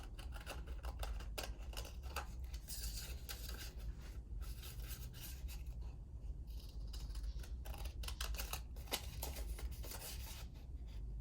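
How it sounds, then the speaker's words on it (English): Soft, close snipping and rustling of scissors working through paper, steady and quiet with brief pauses, no talking. "we'll cut this out very carefully using your scissors."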